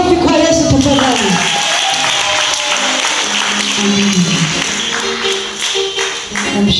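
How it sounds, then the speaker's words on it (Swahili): A church congregation claps for Jesus during a youth thanksgiving service, dense steady clapping running under voices and sustained musical tones. "Ongeza makofi kwa Yesu tafadhali."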